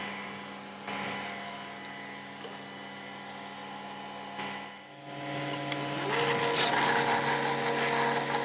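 A Conturo KA65 edge banding machine hums steadily with mechanical whirring as lipping is fed in, rising to a louder, busier running note partway through, with brief clicks and no talk.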